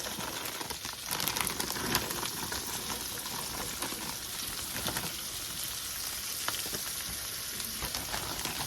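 Butter and a bag of O'Brien potatoes sizzle in a pan, a steady hiss of frying that holds even throughout, with faint stirring scrapes and no voices.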